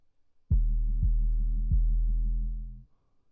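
A deep synth sub bass note sounds in a music production session, one sustained tone with a couple of soft pulses and a steady fade near the end, heard alone and clearly.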